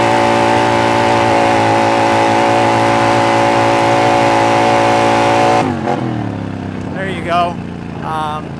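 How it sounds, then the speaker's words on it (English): A motorcycle engine held wide open at high RPM makes a loud, sustained, steady drone for several seconds, then drops off abruptly while a voice speaks over the fading engine. "I'll just hold it wide open for a little bit for you guys"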